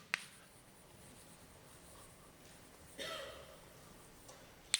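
Chalk or marker strokes on a lecture board, faint and sparse, with a couple of sharp taps and a short scratchy stroke in a quiet room.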